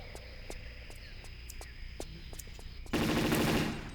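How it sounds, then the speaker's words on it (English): Uzi submachine gun bursts ring out in a Tomb Raider level set in an Incan ruined city, sharp rapid shots spaced over a low ambient hum with insect-like chirping, followed by a louder dense burst of noise near the end. "I'm going to grab my Uzis to deal with them"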